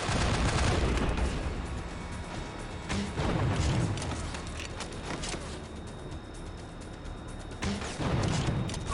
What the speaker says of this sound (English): He's shooting through the walls.